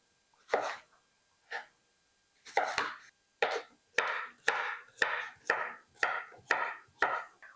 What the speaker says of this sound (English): I'm going to continue chopping these up